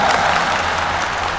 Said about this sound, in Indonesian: 17 tepuk tangan lah tuh.